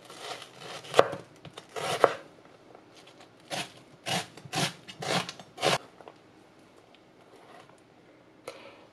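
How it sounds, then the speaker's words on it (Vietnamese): A knife dices white onion on a cutting board, a series of soft close chops in short bursts, fairly quiet and alone. "một trăm gram củ hành tây trắng mình sẽ cắt hạt lựu"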